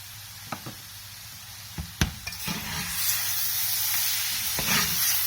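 Grated carrot halwa with chopped almonds roasting in cooking oil in a pan. A few sharp knocks of a spoon come first, then a hissing sizzle swells and holds, close by, with no talking.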